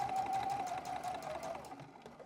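A sewing machine stitching a fabric corner bookmark, giving a steady, fast mechanical whir of rapid needle strokes close by that slows toward the end.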